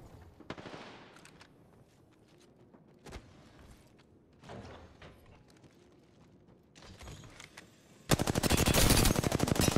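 Machine-gun fire in a shooter video game comes in several separate bursts with quieter gaps between them, then a loud, sustained rapid volley rattles close at the end.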